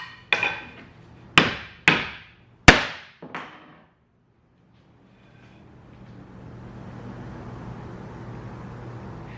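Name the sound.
hammer striking poplar wood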